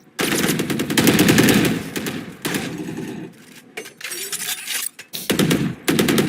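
A turret fires in the Valorant video game during a pro PRX vs DRX match, loud rapid automatic bursts in repeated volleys with brief gaps, with game effects and faint voices underneath.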